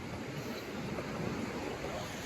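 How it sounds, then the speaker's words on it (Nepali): Water rushes continuously in a broad, steady roar, like a river flowing nearby, with some wind buffeting. "कस्तो राम्रो खोला छ"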